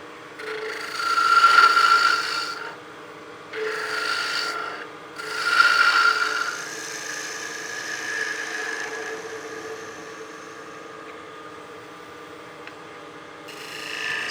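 A small wooden mushroom Christmas ornament spins on a lathe as a gouge cuts it, giving raspy scraping bursts that swell and fade in several passes, close and loud, then trail off to quieter rubbing.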